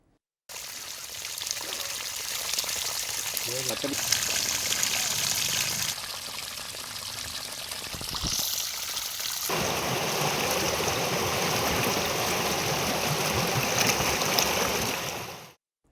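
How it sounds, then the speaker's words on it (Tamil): Heavy-rain water overflows from filled borewells and floods into a farm garden, a steady, loud rushing flow that continues unbroken and grows denser and stronger partway through, with no voices. "வெளியேறும் தண்ணீர் தோட்டத்திற்குள் வெள்ளமாக பாய்ந்தோடுகிறது"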